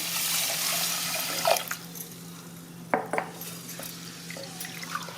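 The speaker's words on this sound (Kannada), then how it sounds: "ಇದಕ್ಕೆ ನೀರು ಹಾಕಿ ಒಂದು ಎರಡು ಮೂರು ಸರಿ ಚಲೋ ಹೊತ್ತಿಗೆ ತೊಳಿತೀನಿ" Three cups of rice are washed in water before going into a pressure cooker: quiet running water with soft splashes and a few sharp clinks and sloshes, with no voices.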